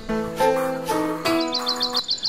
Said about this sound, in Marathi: विविध पक्ष्यांचा चिवचिवाट